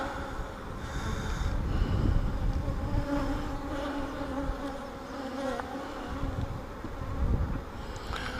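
Honey bees hum densely around a hive frame being pulled for honey, a close, continuous buzzing swarm that rises and falls slightly with no speech.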